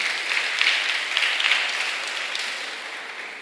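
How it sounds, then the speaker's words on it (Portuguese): Church congregation applauding the word of God during a Portuguese-language sermon, a loud, dense burst of many hands clapping that holds steady, then slowly tapers off. "vamos aplaudir a palavra do Senhor?"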